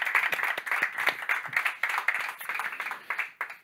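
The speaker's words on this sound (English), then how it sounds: "let us give them a round of applause to say thank you" Lecture audience at a science week event gives a round of applause, steady dense clapping at moderate distance lasting several seconds, with no talk over it.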